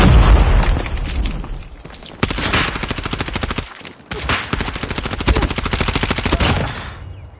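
A grenade blast and heavy automatic gunfire from a Call of Duty Search and Destroy match, opening with a loud boom followed by dense, rapid rattling bursts of shots close up.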